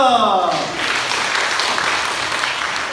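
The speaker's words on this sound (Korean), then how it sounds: "박수!" A church congregation breaks into applause during a children's segment of a sermon. A voice trails off at the start, then a loud, dense burst of clapping follows and keeps going.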